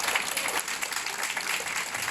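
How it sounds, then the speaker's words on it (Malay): Audience applause at a health and beauty seminar, a steady wash of many hands clapping at moderate distance, continuous and even throughout with no voices standing out. "Satu tepukan balik gemuruh untuk semua hadirin dan hadirat sekalian."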